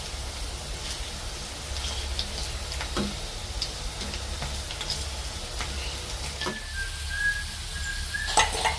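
Potato slices fry in a pan with a steady, soft sizzle, dotted with small ticks and pops and a brief clink near the end.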